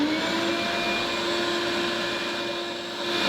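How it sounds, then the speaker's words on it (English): A vacuum cleaner runs continuously while cleaning a model railroad layout, a steady loud whine with a strong motor tone, close up and alone, easing slightly near the end. "So I vacuumed it. Vacuum as you go."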